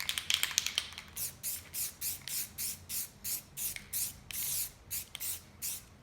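Clear gloss coat sprayed from a can onto a spray foam craft piece, about a dozen short, evenly spaced hissing bursts, close and fairly quiet, with no talk.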